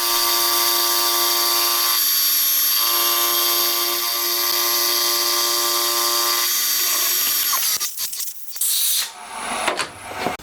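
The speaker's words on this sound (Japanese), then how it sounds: "まずは一番下のフィンを軽く削って平行の基準点を作っていきます。" Power tool grinding down the lowest cooling fin of a handmade cylinder for a 125cc four-cylinder 16-valve engine, a steady high whine with shifting pitch, then cutting off into scattered clatter near the end.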